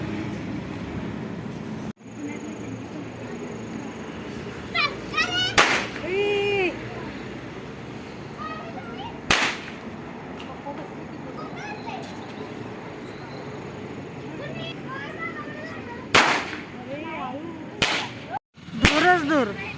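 Firecrackers burst during a Diwali Padwa celebration: several sharp, loud bangs at irregular intervals, some close together near the end, between stretches of people talking.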